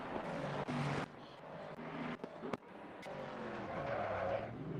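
A race car spinning out at Watkins Glen during a one-make series race: tires squeal and skid under a droning engine, with sharp clicks and a brief dip before the engine noise builds again.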